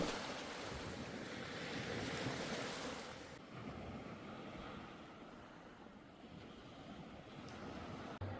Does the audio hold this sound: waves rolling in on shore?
yes